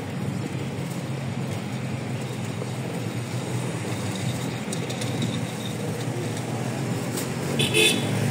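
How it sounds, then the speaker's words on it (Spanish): Steady rumble of traffic and rail activity at the Holguín railway station in Cuba, a continuous broadband wash of engines and movement with a brief louder swell near the end. "Ferrocarril de aquí de Holguín, estación de ferrocarril."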